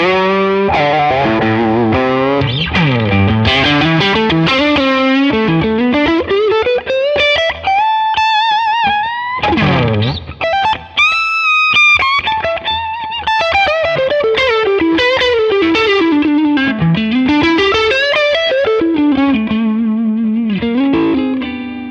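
Clean-toned electric guitar played through a Neural DSP Tone King Imperial MkII amp plugin, with sustained notes, bends and slides under chorus and reverb, loud and continuous with a brief pause midway.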